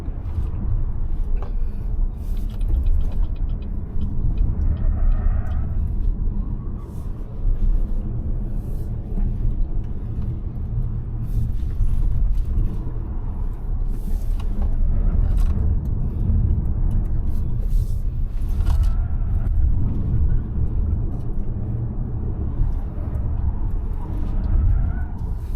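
A BYD Seal electric car climbs the Genting hillclimb with a constant low road and tyre rumble, punctuated by faint clicks and thumps as it is pushed hard through corners.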